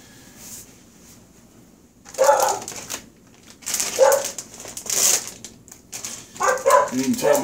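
Dogs in a home setting bark in a few short bursts, moderately close and mixed with yips and whimpers, over quiet kitchen ambience.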